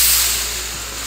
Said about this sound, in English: I decided to steam the sheets a little bit, get rid of some of the wrinkles